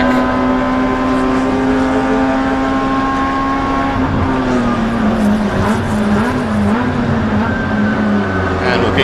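Race car driving on a track during a 2018 MCS Round 2 race, a loud sustained engine drone with shifting pitch as it changes gears, steady and close throughout.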